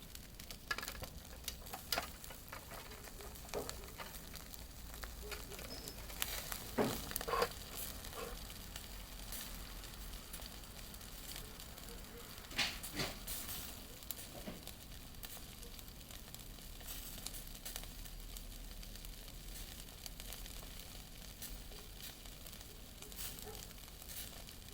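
Fish and shrimp, including sea bream, sizzle on a grill with a soft, steady crackle and occasional sharper pops and spits, fairly quiet and uninterrupted by talk.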